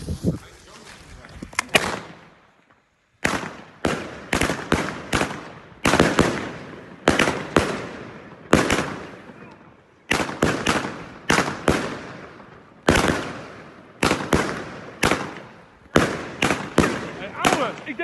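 A Happy Salute firework cake fires a rapid series of sharp, loud bangs in irregular bursts with short echoing tails, a brief pause early on, then sustained volleys, with voices underneath.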